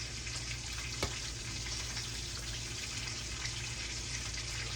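A steady stream of about four cups of liquid pouring continuously into turkey brine, with a low constant hum underneath.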